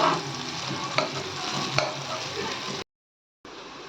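Onions fry in oil in a pan with a steady close sizzle, stirred now and then with a few sharp scrapes of a utensil, before the sound drops out briefly and resumes.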